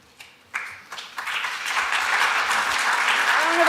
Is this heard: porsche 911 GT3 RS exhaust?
no